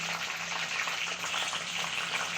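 Mushroom gobi frying in a pan until browned, a steady close sizzling hiss that runs unbroken throughout with no voices.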